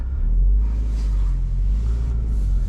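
A 2024 Subaru WRX Limited with a six-speed manual on the move, its engine giving a steady, heavy low rumble with road and wind noise from inside the cabin, loud and continuous.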